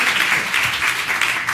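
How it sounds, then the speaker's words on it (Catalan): Audience in a hall applauding after a short skit, a steady, fairly loud patter of many hands clapping for a moment without pause. "un fort aplaudiment"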